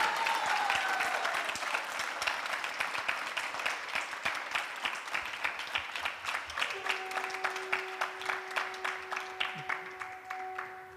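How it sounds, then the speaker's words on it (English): Audience applause for the speaker Caitanya Charan Prabhu after a talk, a broad wash of clapping that settles into a steady rhythmic group clap, moderately distant, with a sustained tone entering near the end. "Can we give a big round of applause showing our appreciation?"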